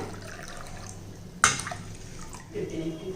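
About 2.5 cups of water are poured into measured rice for cooking, opening with a sharp close splash and settling into a gentle trickle and faint dripping.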